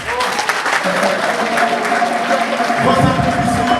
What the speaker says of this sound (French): Vos applaudissements, standing ovation